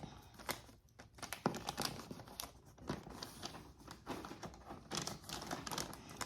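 Wrapping paper is folded and creased around a gift, heard as close, quiet crinkles and sharp paper snaps in irregular bursts.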